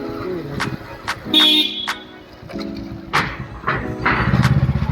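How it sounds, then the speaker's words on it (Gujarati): Car horn honking inside a fort gateway in Gujarat, several short toots and a longer blast ringing with echo off the enclosed walls, close and loud over engine rumble, with faint voices. "ગોપાલભાઈ અહીંયા હોર્ન મારજો, એક મસ્ત અવાજ આવશે અંદર જઈને"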